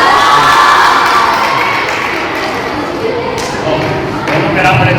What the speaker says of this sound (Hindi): आप लोग क्यों चिल्ला रहे हैं?